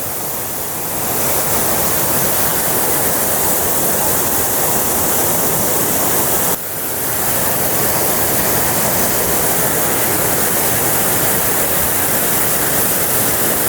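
Strong rushing water at Kankalitala, where people fish along the bank: a loud, continuous roar of heavy flow that holds steady, with no voices over it.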